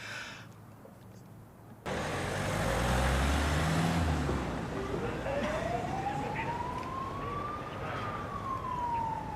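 An ambulance siren wails from the street in an emergency, starting loud and near after a sudden cut, its pitch sweeping up and down over steady traffic-like rumble, continuing throughout.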